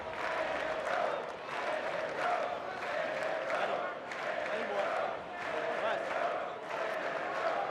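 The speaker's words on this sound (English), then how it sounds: "And the crowd having some fun with it now." A stadium crowd at a college baseball game, Notre Dame against Florida State at Dick Hauser Stadium, cheers and claps steadily in loud rhythmic swells, led by a student section.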